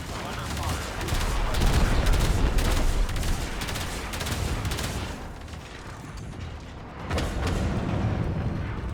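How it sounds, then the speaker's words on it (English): Torpedoes launching in the video game Warframe, a dense barrage of rapid booming blasts and mechanical clatter, loud and sustained with a brief lull midway. "Torpedoes locked. Target in range."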